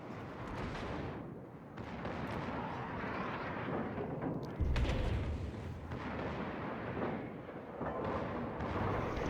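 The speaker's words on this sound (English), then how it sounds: "Secondaries are opening up." Secondary guns on the Derflinger battleship in World of Warships keep up a dense, rumbling barrage of overlapping cannon booms and blasts, with one heavier low thump midway, loud and continuous throughout.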